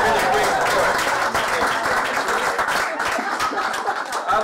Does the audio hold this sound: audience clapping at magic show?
yes